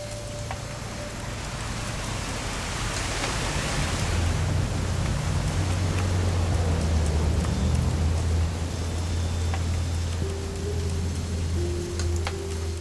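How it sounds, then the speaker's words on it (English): Steady, dense rain pours throughout a scene in the video game What Remains of Edith Finch, a constant close wash of drops over a low rumble with a few faint tonal game sounds and no voices. "It's gonna rain the whole weekend, isn't it?"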